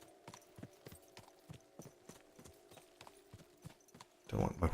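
Horse hooves clip-clop in a steady, moderately close rhythm within a video game, with faint background game sounds and a louder burst of noise at the very end.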